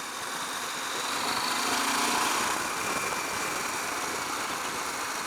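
Engine of a KTM 890 Adventure R motorcycle on a pavement ride, a steady near drone mixed with wind rush, its tone lifting and dipping slightly as gears shift down and back up.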